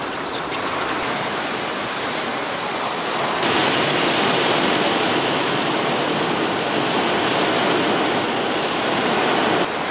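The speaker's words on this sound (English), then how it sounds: "I don't know if y'all can hear me because the rain is so loud" Heavy rain, turning into a hail storm, drums on the roof of a camper van as a loud continuous hiss that grows stronger partway through, with no voices.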